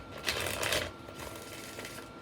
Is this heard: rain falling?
no